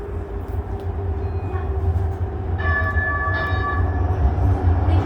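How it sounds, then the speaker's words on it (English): A Siemens U2 light rail car of the Calgary CTrain Blue Line runs along the track, with a loud steady low rumble and rising electric motor whine and tones, and no talking. "There's the glitchy train."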